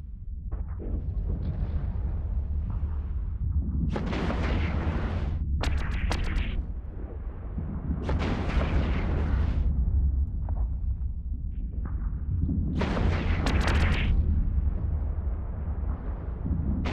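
Spaceship guns fire in a video game space battle during a siege, giving repeated loud blasts and bursts over a steady low rumble. The firing comes in clusters throughout.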